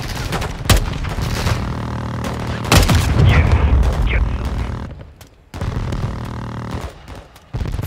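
Sniper gunfire in the video game Call of Duty: Modern Warfare 2, with heavy booming shots and blasts over a dense, rumbling battle din, loud and close, with a brief lull partway through.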